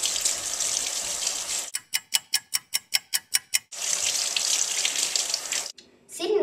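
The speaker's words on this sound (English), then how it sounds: "People also usually wash their hands before their meal." Water runs from a tap into a sink for hand washing before a medieval meal, a steady broadband rush that breaks off for a few seconds of rhythmic ticking, then gushes again before stopping.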